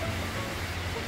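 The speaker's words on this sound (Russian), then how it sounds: "Пошел дождь, погода теплая" Warm rain falls in the Maldives as a dense, steady hiss with no distinct drops, continuous and even throughout a brief moment.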